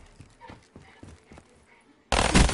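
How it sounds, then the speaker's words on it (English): Faint scattered game sounds give way to a sudden loud, dense burst of gunfire in Call of Duty: Black Ops III at the end of the clip. "these gunshots sound so good"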